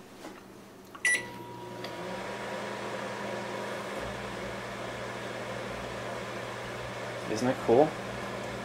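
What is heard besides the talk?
microwave oven running with a light bulb inside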